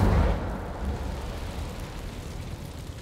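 A fire spell cast in the Hogwarts Legacy video game, heard as a loud low whooshing burst at the start that fades into a rumbling, crackling tail.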